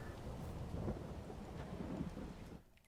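Rain in the Farming Simulator 22 video game, a steady quiet hiss of falling rain with a soft low rumble, fading out toward the end.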